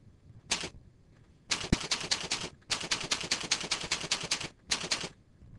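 Computer keyboard keys are tapped in quick bursts while annotation text is typed, with brisk clustered clicks separated by short pauses, close and clear in a quiet room.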